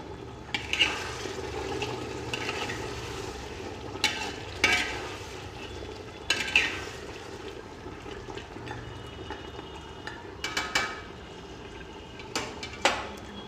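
Mutton curry sizzles in a pan as it is stirred and mixed, with scattered scrapes and clatters over a steady frying hiss, close by and without speech.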